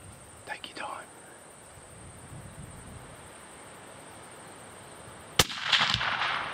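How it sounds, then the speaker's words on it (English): A single sharp rifle shot cracks out at a sika stag during a hunt. It comes late after a quiet stretch of soft whispering, and a longer rumbling echo follows it. "You go ahead and shoot him."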